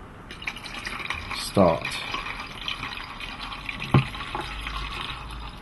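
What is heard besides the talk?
pouring Caffenol developer into film developing tank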